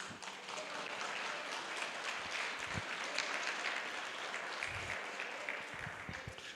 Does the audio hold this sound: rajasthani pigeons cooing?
no